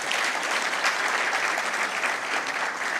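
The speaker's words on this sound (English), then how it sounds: "Please, let's clap for him again." A graduation ceremony audience claps for a guest, dense even applause filling the room throughout.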